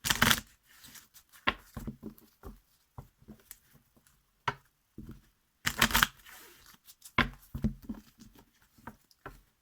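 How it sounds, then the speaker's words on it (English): A tarot card deck being shuffled by hand, with quick irregular riffles, flicks and papery slaps coming in short clusters between brief pauses, close and fairly quiet. "I'll just do a quick shuffle through your deck"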